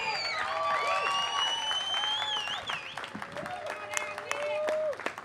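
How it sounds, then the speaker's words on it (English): A crowd applauds and cheers to welcome defensive lineman Nick Hayden, with dense clapping under whoops and excited voices, tapering toward the end. "please give a big round of applause to a big part of the team"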